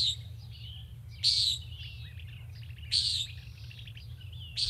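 A common nighthawk gives sharp, buzzy nasal calls repeated at roughly two-second intervals, with faint chirps between them over a low steady background hum, moderately near.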